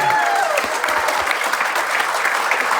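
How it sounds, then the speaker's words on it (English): Applause for the winner at a golf day, loud and steady, with a brief whoop or voice at the start as the crowd claps together. "Everybody, huge round of applause for your YouTube winner 2019, Mike Dawson."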